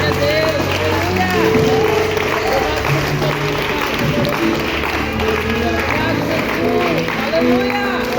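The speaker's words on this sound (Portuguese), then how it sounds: "Que as palmas glorificam o Senhor." A church congregation applauding together during a Portuguese-language service, with dense, sustained clapping from many hands filling the room while a voice carries on over it.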